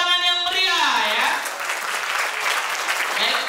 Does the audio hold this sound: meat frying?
no